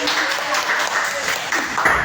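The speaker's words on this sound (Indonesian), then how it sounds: "ayo berikan tepuk tangan dulu" Students in a small classroom give a short round of applause, a brief dense burst of clapping with voices mixed in.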